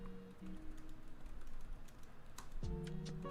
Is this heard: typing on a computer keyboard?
yes